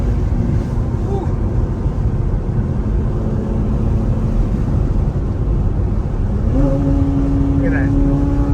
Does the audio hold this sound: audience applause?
no